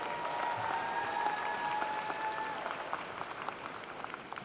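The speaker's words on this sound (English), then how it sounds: "Please give yourselves a round of applause too." A graduation audience at Seagoville High School's 2017 ceremony claps together, a dense wash of applause heard from a distance that slowly thins and fades toward the end.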